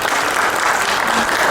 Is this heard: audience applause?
yes